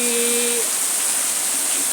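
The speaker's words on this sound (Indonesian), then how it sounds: "perhatikan air hujan yang turun di tanah" Steady rain falling on bare, uncemented soil, a continuous close hiss of drops with no pauses and a faint tonal hum fading early.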